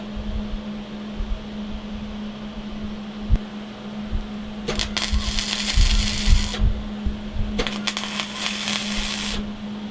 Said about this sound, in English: So I'm going to weld this up